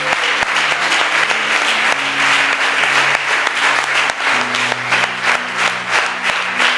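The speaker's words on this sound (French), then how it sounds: "Si tu crois, acclame le Seigneur." A church congregation at a worship service applauds and cheers the Lord, loud dense clapping and crowd noise throughout, with held music tones underneath.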